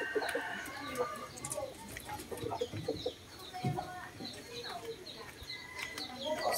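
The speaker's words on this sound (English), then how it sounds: "So I'm gonna check the chicken in the pullet pen also." Chickens in a pullet pen cluck and chatter nearby, with scattered bird calls and rustling spread across a busy outdoor backdrop, and a person speaks briefly among them.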